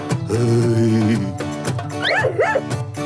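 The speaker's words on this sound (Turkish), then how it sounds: "Ya köpek çıkarma şu sesi ya." A dog whines in a long, steady tone, then lets out several short rising-and-falling whimpers and yips, close and fairly loud.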